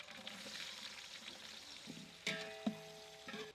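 Chopped onions sizzle and fry in hot oil with a soft steady crackle, broken by a few clinks and scrapes of a utensil stirring the pan.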